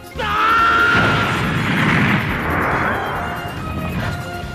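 Anime power aura blast from Dragon Ball Z, a loud booming explosive burst with a rising whine that rumbles and shakes before slowly fading.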